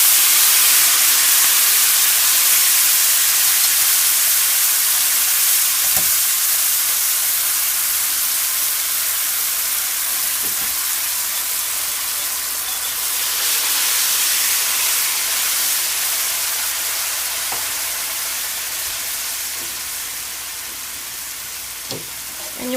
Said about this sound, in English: you want to be careful of the steam. It's very hot